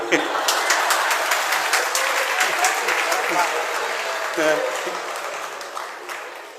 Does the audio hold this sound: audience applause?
yes